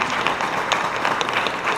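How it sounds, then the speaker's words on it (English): Audience at a school board meeting applauding: a short burst of steady, dense clapping from a room of people, moderately close. "So let's give them a round of applause."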